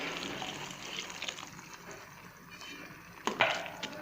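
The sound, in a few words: half glass of water poured into matar keema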